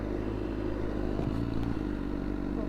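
A BMW S1000RR sport bike is being ridden, its engine holding a steady, droning hum with a few faint clattering scrapes over the top, and no talking.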